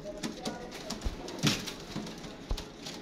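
Pigeons cooing softly nearby in a few low, throaty bursts, with light rustling and movement in the background and no talking.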